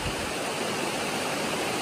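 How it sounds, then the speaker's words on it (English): Chester Creek at Three Forks on the Appalachian Trail rushes steadily, a close, loud, continuous broadband roar of flowing water with no other sounds. "And now at Three Forks, this is Chester Creek."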